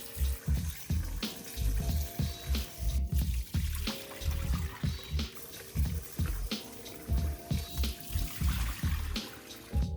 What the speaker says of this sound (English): We're going to continue rinsing until the water is clear or almost clear.